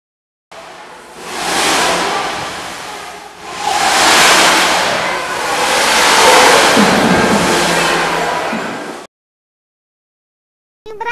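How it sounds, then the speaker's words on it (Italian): Ocean waves surge in three broad, loud washes that swell and recede, each lasting a few seconds, before cutting off into silence. "Dobbiamo sollevare le onde e loro fanno un rumore"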